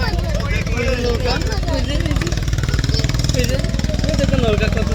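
A boat engine runs steadily with a continuous droning chug, loud and unbroken, while voices talk over it.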